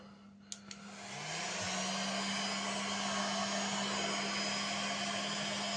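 A heat gun warms a seized Peugeot moped engine, starting with a couple of faint clicks before a loud, steady close-up blowing roar that holds to the end.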